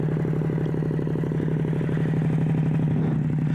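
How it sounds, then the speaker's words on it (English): A Yamaha R7 motorcycle idles close by, its aftermarket exhaust giving a loud, steady, rapid low-pitched burble throughout. "It's not the worst sounding exhaust I've ever heard on an R7, but it does get pretty loud."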